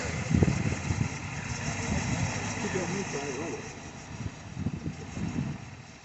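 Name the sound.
1947 Buick Special engine idling, rebuilt engine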